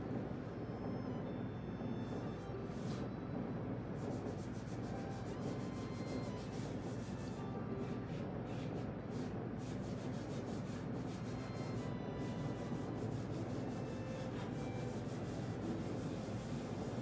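A finish is rubbed by hand into a wooden buffet, giving a continuous, close, scratchy rubbing that runs steadily throughout with no talking.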